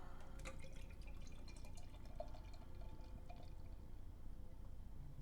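Strong 16.2% dark beer poured into a glass, a steady close splashing and glugging of liquid running throughout with small drips, no talk.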